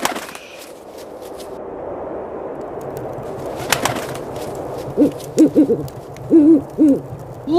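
An owl hoots in a children's story, several soft, rounded hoots in quick succession near the end, following a quiet stretch of low background hiss with a brief rustling burst.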